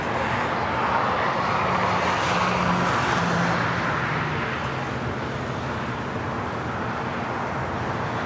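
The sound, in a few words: airplane taking off from runway 25 right at LAX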